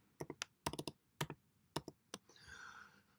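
Close-up typing on a computer keyboard: a quick irregular burst of sharp key clicks in small clusters, then a brief softer rustle, with no talking.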